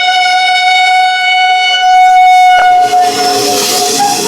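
An Amrit Bharat Express pulls into Kottayam railway station on its inaugural run, sounding a loud, sustained multi-tone horn close by that cuts off, followed by rushing rumble and rail noise as the train rolls in.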